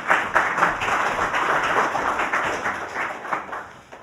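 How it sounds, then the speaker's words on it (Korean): A launch ceremony audience applauds steadily for about four seconds, with dense, even clapping that fills the hall and eases slightly toward the end, with no talking over it. "박수로 맞아주시기 바랍니다."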